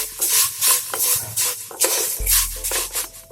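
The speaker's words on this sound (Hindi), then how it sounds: "इसे ब्राउन होने तक फ्राई कर लेंगे" Vermicelli browns in a pan over a low flame for sweet sewai kheer, stirred with a utensil in repeated scraping strokes over a light sizzle, close and rhythmic, no talk.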